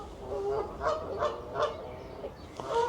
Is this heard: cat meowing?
no